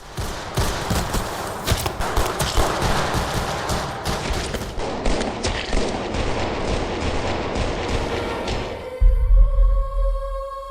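Rapid bursts of gunfire from a film police shootout crack out in dense, repeated volleys for several seconds, followed by a ringing, tonal aftermath with low rumble.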